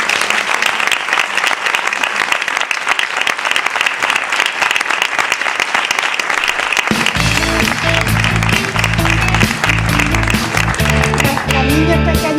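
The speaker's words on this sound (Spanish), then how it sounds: "démosle un fuerte aplauso a las participantes de hoy" An audience applauds loudly and continuously, with dense clapping throughout and music rising underneath partway through.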